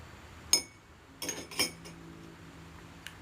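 A metal spoon clinks against a glass as liquid detergent is added during a chemistry practical, giving a few sharp, faint taps with quiet pauses between them.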